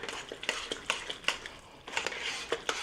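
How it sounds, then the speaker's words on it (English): A spoon stirs diced tomatoes and tomato paste into a pot of black bean chili, giving a run of irregular clinks and scrapes against the pot, close by and moderately loud, with no talking. "Let's just get that stirred in."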